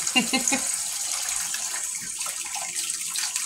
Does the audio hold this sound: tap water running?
yes